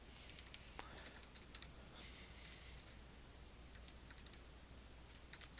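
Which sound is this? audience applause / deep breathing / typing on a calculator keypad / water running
typing on a calculator keypad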